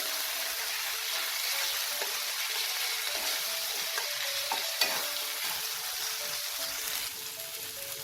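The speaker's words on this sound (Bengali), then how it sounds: "মশলাটাকে আমি মিডিয়াম ফ্লেমে 1 মিনিট একটু নাড়াচাড়া করে নিয়েছি।" Spice masala for a dhaba-style egg masala fry sizzles steadily in a pan over a medium flame while being stirred, a constant close frying hiss with faint scraping and a small clink partway through.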